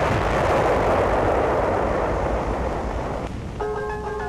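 Artillery bombardment in Lhasa rolls out as a dense, heavy low roar of blasts and rumbling, loud and continuous, in old archival film sound, with a brief tonal note entering near the end.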